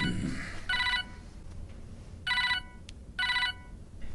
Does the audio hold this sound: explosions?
no